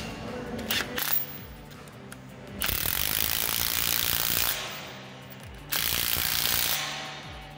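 Milwaukee 1-inch D-handle impact gun tightening a 1.5-inch cap on a pipeline, giving two long loud hammering bursts separated by pauses, with a few short clicks at the start.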